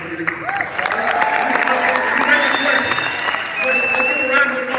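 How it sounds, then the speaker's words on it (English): Crowd applause at a community sports complex dedication in Los Angeles, a dense steady clapping with voices talking over it. "give a round of applause"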